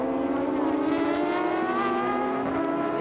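GT race cars on the Fuji circuit in a GT Asia race, a loud, close engine note with a rising, sweeping pitch as a car passes, steady and unbroken with no voices.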